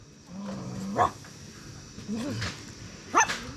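A puppy makes growly yelps and short, rising barks, two or three bursts close by, with a low growl between them.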